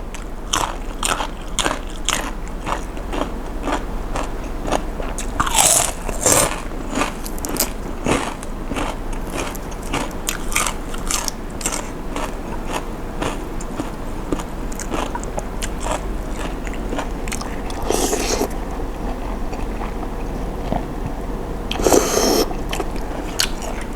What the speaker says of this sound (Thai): มันจะมีแบบเอ็นกรุบกรุบ